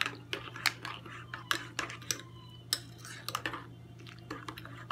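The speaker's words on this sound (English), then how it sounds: "Let's stir it." A spoon stirring hot cocoa in a metal pan gives light, irregular clinks and scrapes, close and fairly soft, over a steady low hum.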